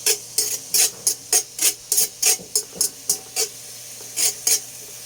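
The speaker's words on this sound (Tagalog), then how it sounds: "Ngayon ay magigisa tayo ng bawang." Garlic is sautéed in oil in a pan, heard as a series of quick scraping stirs and rasps over a faint sizzle, about a dozen strokes in an uneven rhythm, close and with no talk.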